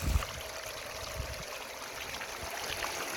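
Water steadily running through a gold prospecting sluice at about 2,000 gallons, heard as a continuous close rushing stream with no breaks and no talk.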